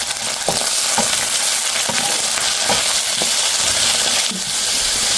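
Potatoes fry loudly in oil with browned onions and green chilies, a dense steady sizzle punctuated by periodic clinks and scrapes of a stirring utensil against the pan, with no talk.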